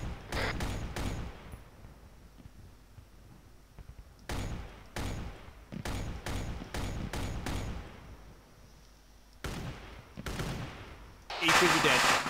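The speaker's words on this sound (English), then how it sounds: "Ah, so I should shoot it then." Gunfire from shooting an enemy in ArmA 3 during a 40k Ork escape mission: several loud, sharp bursts of shots in quick clusters, separated by quieter gaps, with the heaviest volley at the end.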